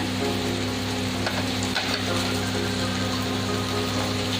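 Onion paste sizzles loudly in hot oil in a frying pan while cooking a Bengali chicken roast, a dense, steady crackling hiss that runs continuously and close up, with no talk.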